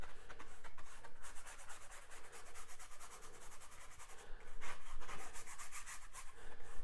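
A brush scrubs blue paint onto an 8x10 canvas in a steady, dry rubbing texture, with repeated back-and-forth strokes that are close and continuous, with no voices over it.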